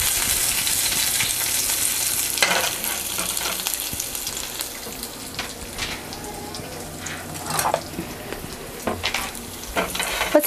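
Green chillies and ginger roasting in a pan for kiwi raita, a steady, close sizzle with repeated stirring scrapes and small clinks that grow sparser toward the end; no talking.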